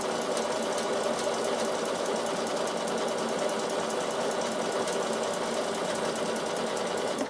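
A Bernina sewing machine stitches steadily in a fast, even whir for the whole stretch, with no talk, loud and close.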